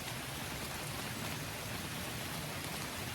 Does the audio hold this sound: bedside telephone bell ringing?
no